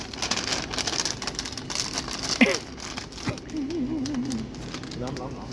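Steady rain falls and patters on surfaces outdoors during a shopping trip, a continuous hiss with occasional crinkling, while a voice talks over it.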